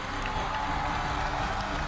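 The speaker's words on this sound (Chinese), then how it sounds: "让我们用掌声欢送小哥登上天籁之塔。" A studio audience at a televised singing competition applauds, a dense, steady wash of clapping that fills the room from start to finish.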